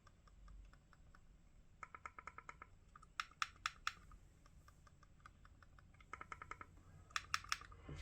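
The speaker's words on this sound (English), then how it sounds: "They are very silent clicks." Quiet clicks from the buttons of a Logitech Pop Mouse held close, short soft ticks in small bursts and scattered single taps over a faint background hiss.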